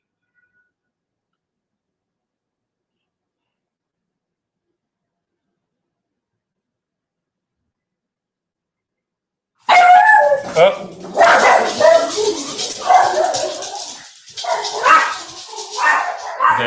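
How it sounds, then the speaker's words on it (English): Several dogs bark loudly and close by in rapid, uneven bursts mixed with yips, breaking out suddenly after a long silence, with a brief voice among them. "You guys hear my vicious dogs?"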